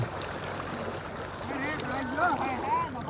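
The Saraswati river flowing after rains, with people in the middle of the stream, gives a continuous rushing wash of water, while voices and chatter sound over it.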